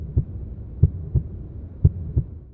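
A low-health heartbeat effect in a UE4 shooter game thumps in steady double beats, deep and muffled, repeating three times over a faint low hum.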